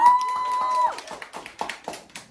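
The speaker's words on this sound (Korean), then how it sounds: "우리 노영민 사장님께 큰 박수 다시 한번 부탁드리겠습니다." Scattered hand claps from a small audience at a team meeting, sharp separate slaps following a brief tonal sound, fairly close and fading out.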